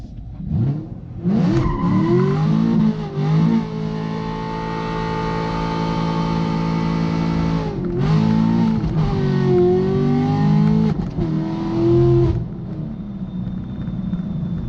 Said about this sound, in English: You must, and I repeat, you must do a proper burnout.